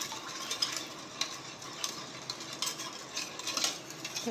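Salt being stirred into a lemon candy mixture with a spoon, giving soft, steady scraping and clinking against the bowl, close and fairly quiet with no voices.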